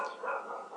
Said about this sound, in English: I don't know why these dogs are barking.